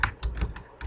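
A computer keyboard being typed on while a drawing is annotated in design software: a few quick, close, quiet keystroke clicks in an irregular rhythm, with no talking.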